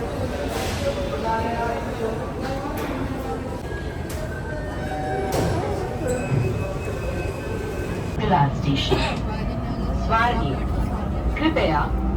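Steady rumble and rattle of a Pune metro train in motion, heard from inside the carriage, with voices and a next-station announcement for Swargate speaking over the continuous ride noise.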